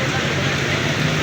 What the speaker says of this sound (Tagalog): Ang lakas ng ulan po guys.